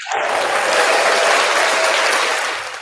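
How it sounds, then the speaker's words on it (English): A burst of steady crowd applause, dense and loud, rising quickly and tapering off after a few seconds. "And where's my applause, Carlos?"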